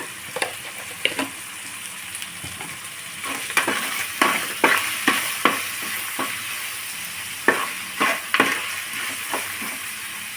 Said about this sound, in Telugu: బాగా ఫ్రై అయినాయండి టమాటాలు బాగా మెత్తగా మగ్గిపోయినాయి